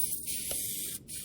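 A spray gun paints a car in the video game Car Mechanic Simulator 2021, giving a steady close airy hiss that cuts out briefly before resuming.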